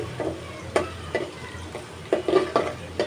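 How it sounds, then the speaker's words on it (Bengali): Onion frying in oil for a Bengali boal fish curry, a soft steady sizzle broken by repeated sharp scrapes and clinks of a spatula stirring in the pan, close and without talk. "এখানে আমি রান্না করার জন্য তরকারির জন্য পেঁয়াজটাকে ভেজে নিচ্ছি"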